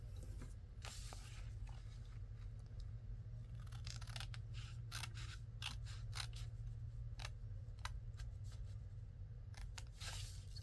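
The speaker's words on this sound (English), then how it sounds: "Let me just cut this little tiny bit in a little bit more." Scissors snip paper for a fall-themed tri-fold craft with pockets, making a string of small, close, crisp cuts over a low steady hum.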